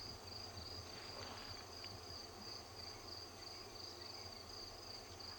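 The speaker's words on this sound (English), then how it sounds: "All the crickets are still calling, apparently, which is nice." Crickets calling at dawn in the African bush at Ngala Private Game Reserve, a continuous high thin trill steady throughout, faint and distant over a quiet low rumble.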